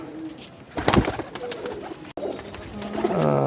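High-flying pigeons coo softly close by, with rustling and fluttering sounds and a brief burst of movement midway.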